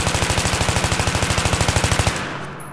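Automatic rifle fire in a video game while aiming and holding down recoil, a rapid even burst of about twenty-five loud close shots lasting two seconds, then a short fading tail.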